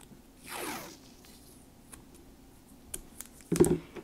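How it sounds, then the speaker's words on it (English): Washi tape used for masking in stamping crafts is pulled off the roll in a quick ripping zip, followed later by a few soft taps and a sharper crinkly tear, all close and fairly quiet. "So I used washi tape that's about 3/8 of an inch in width."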